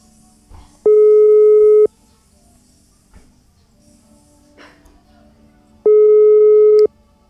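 Two telephone busy-signal bursts, each a steady loud tone lasting about a second, heard while placing a call, separated by a quiet gap with faint room noise.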